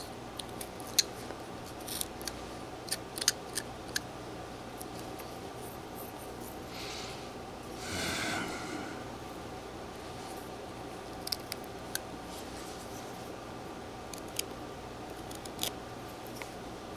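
A knife whittling a wooden whale carving gives scattered, faint, sharp little cuts and scrapes, with a brief louder rasping stroke near the middle.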